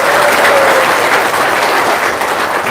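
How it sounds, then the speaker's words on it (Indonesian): Loud, dense applause from an evening seminar audience, steady and continuous throughout without any talk over it. "Yang keras tepuk tangannya."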